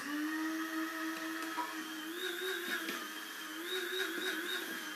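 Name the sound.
small coffee grinder grinding psyllium husk seeds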